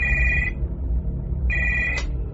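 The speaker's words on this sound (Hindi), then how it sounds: "मेरा फोन फिर से बजा" A hotel room telephone rings in two short electronic bursts separated by a pause, clear and fairly close over a low background hum, with no talking.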